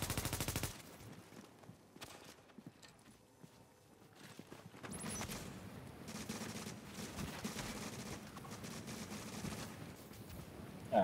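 Gunfire in the online shooter The Division is heard as fairly faint, scattered bursts of shots, sparse at first and then thickening into a steadier clatter toward the end.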